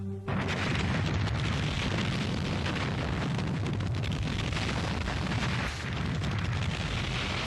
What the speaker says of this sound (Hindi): आपने पूरा ग्रह उड़ा दिया।